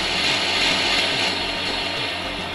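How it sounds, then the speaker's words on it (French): A propeller airplane engine drones steadily overhead in a video game, a loud, continuous throbbing hum with a regular low pulse that holds at the same level for the whole stretch, with no voices. "Cet avion va droit sur l'aéroport."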